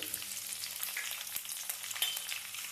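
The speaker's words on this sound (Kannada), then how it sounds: "ಹಸಿಮೆಣಸಿಗೆಯನ್ನು ಚೆನ್ನಾಗಿ ಎಣ್ಣೆಯಲ್ಲಿ ಫ್ರೈ ಮಾಡಿ ನೋಡಿ" Green chillies fry in hot oil with a continuous close crackling sizzle, busy and even throughout, with faint stirring and no voices.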